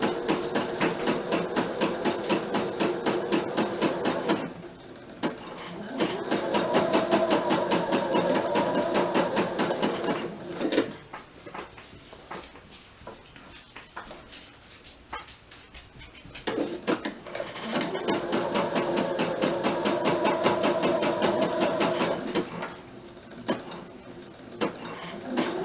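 A sewing machine top stitches around a curved seam in several bursts of rapid needle chatter, with pauses between runs and short clicks as the fabric is turned.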